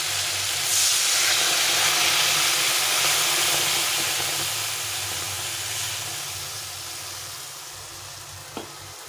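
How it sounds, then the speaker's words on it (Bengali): Mustard-poppy seed water poured into tomatoes frying in a pan for a pabda fish curry gives a loud, steady sizzle and hiss that slowly fades over several seconds, with a brief clink near the end and no talking. "এখন আমি এই সর্ষে পোস্তের জলটা দিয়ে দেবো"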